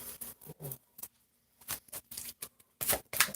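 Tarot cards being shuffled by hand, giving a run of short, close papery riffles and flicks in irregular bursts separated by brief pauses, with no talk.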